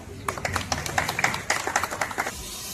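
A crowd applauds at a village panchayat gathering in Usmanpur, Delhi, with sharp, scattered handclaps over several seconds that trail off near the end, and a murmur of voices beneath.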